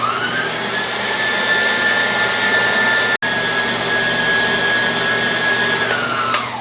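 An electric mixer beats cake batter for a milk-powder-filled party cake, a loud steady motor whine held throughout with a brief cutout midway.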